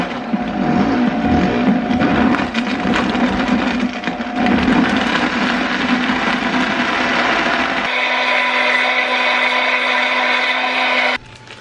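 A kitchen blender whirs loudly and steadily through scone batter spiced with cloves, its pitch shifting partway as the load changes, then cutting off abruptly at the end.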